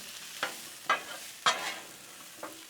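Steak and potato bites sizzling on a Blackstone griddle, with a steady frying hiss broken by four sharp scrapes of a spatula stirring them, close up.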